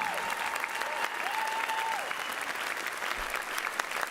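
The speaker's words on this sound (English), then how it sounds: "One more warm round of applause for Jess." Warm applause from the audience at a university diversity monologues event fills the room evenly, with a sustained, wavering vocal tone drifting over the clapping in the first half.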